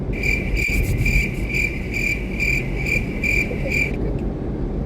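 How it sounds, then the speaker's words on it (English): Cricket chirping sound effect, a steady run of bright pulsed chirps repeating evenly for about four seconds over a constant background hiss, then cutting off abruptly near the end. "Can you put a cricket sound effect right now?"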